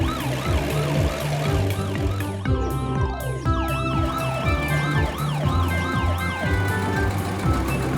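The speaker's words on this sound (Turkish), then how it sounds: "Bakın ambulans ne kadar hızlı gidiyor" A cartoon ambulance siren wails in repeated rising and falling sweeps, loud and continuous over a busy musical backing, with no voices.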